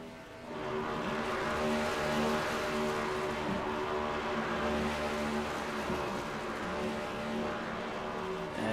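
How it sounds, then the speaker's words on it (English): A race car does a celebratory burnout on the front stretch of an oval track at a season finale, its engine roaring steadily at high revs for several seconds, loud and continuous with no talk. "Everybody's doing burnouts here tonight to celebrate the season it's been"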